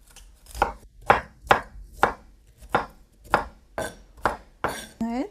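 A knife chops cauliflower finely on a cutting board: about nine crisp, evenly spaced strikes, close and clear, followed by a brief voiced sound at the end.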